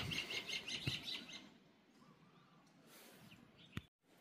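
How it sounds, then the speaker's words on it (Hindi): Several Himalayan bulbuls call from a forest perch, a quick run of bright chirps up close in the first second or so, then fading into a quiet rustling background. "ये बैठी है हिमालयन बुलबुल ये कई सारी हैं यहाँ पे"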